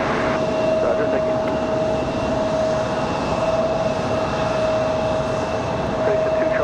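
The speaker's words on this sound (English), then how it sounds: "you guys are hearing the CRJ just below us" A CRJ regional jet idles or taxis below an airport viewpoint at Raleigh-Durham International, giving a steady, continuous whine with a sustained high tone over broadband rumble throughout.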